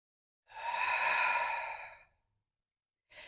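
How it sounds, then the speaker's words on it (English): A single deep breath during a slow yoga flow, a long, airy exhale lasting about a second and a half, close and clear, followed by silence and the start of another breath. "Taking a deep breath."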